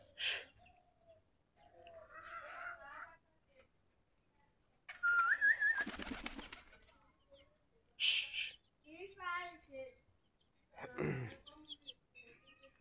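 Giribaz pigeons, a local desi breed, give soft scattered calls between quiet gaps, with one brief loud burst of flapping wings near the middle.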